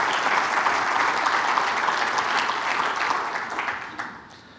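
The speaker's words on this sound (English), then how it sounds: "that applause was probably for my opera singing last night" Audience applause at a workforce conference session, a steady dense wash of clapping from a full room that holds strongly, then fades out over the last second.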